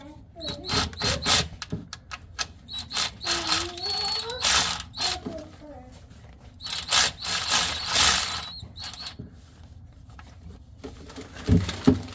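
A cheap cordless ratchet buzzes in short bursts and ratchets against an oil drain bolt without breaking it loose, rattling and clicking irregularly between pauses while someone talks.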